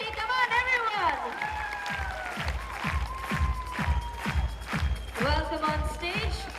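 An audience claps as managers are welcomed onto a stage at a company event, steady rhythmic beats under loud music and voices.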